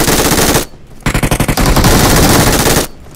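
Rapid bursts of automatic gunfire in a shooting video game, loud and close. A long sustained burst comes first, then a quick stuttering volley, then another long burst, with brief gaps between them and no talking.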